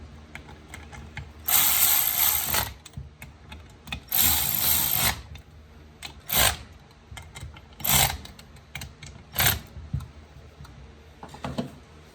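A ratchet clicks while bolts are torqued on a 1966 Pontiac GTO transmission, coming as several bursts of rapid pawl clatter, some long and some short single pulls, close and crisp in a quiet garage.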